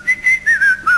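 A person whistles a short, bright tune of about four quick notes with little slides, close and clear against a quiet background.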